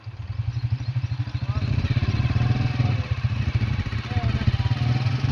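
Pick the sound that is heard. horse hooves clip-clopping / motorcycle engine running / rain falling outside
motorcycle engine running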